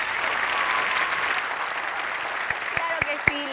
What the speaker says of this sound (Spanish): Palmas muy merecidas para el doctor Arnaldo Cedeño.